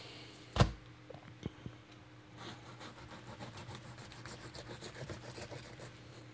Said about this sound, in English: we're just gonna fillet them right off here.